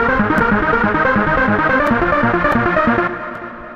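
A dense synthesized trance melody built in FL Studio rolls along in steady triplet patterns with a busy low end, loud and continuous, then thins and softens near the end as the bass drops away.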